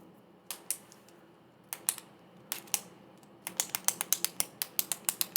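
Retractable pen with a sharp click mechanism, clicked in sharp, close transients: a few scattered single clicks, then a rapid steady run of about a dozen clicks at the end, with no talking.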